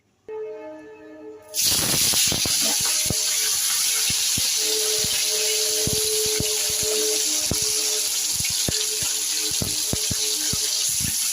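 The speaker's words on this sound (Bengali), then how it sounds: "এবার আমি মাছ ছাড়বো, মাছটা ছেড়ে দেবো তেলে" Fish dropped into hot salted oil bursts into a loud, steady sizzle after a quieter start, with crackling pops scattered throughout, close and continuous with no talk.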